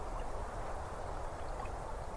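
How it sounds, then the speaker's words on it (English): Lake water laps against the wooden piles beneath a dock at dusk, a soft, steady wash of low, even sound that is slow and continuous, with no other sounds over it. "the water is touching the wood, lap and lap and lap, small and slow and even"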